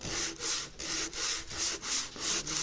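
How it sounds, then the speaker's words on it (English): A piece of 80 grit sandpaper rubbed over wood by hand while fitting electronics to a bass guitar, making steady rhythmic back-and-forth scratchy strokes, about three per second, close and clear with no talking. "this is 80 grit sandpaper. It's just like a piece. And I'm just running it over."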